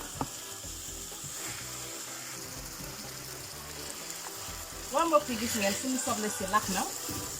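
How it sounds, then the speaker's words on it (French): Onions fry in a pan with garlic, giving a steady sizzle throughout, while a person talks over it toward the end. "la cuisson des oignons avance"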